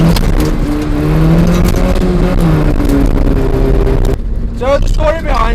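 A Toyota TE71 Corolla's engine revs loud and close from inside the moving car, with a droning tone that shifts pitch as it accelerates, then drops off sharply near the end as gears change.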